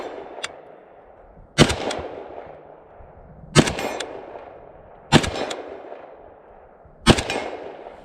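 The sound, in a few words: Palmetto State Armory AK-E rifle firing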